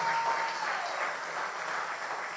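A church congregation applauds during a sermon, a steady dense wash of many hands clapping together, close and sustained with no voices over it.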